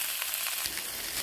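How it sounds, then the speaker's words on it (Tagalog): Long beans stir-frying with oyster sauce in a hot pan, a dense close hiss of sizzling that swells slightly partway through, with no talking. "Long beans, stir fry lang natin to guys."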